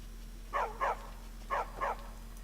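A dog in Skyrim gives four clear barks in two evenly spaced pairs, moderately close over a quiet background with a low steady hum.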